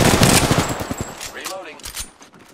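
Rapid automatic gunfire in the battle royale game Apex Legends, loud and close at first, with a dense burst that thins into scattered shots and a faint voice-like call near the end.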